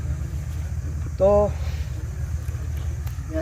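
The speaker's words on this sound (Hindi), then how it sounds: "ट्रैक्टर तो बंद हो गया लगता है, ठीक ना? चालू है" A tractor engine runs nearby with a steady low rumble. A voice speaks briefly over it partway through.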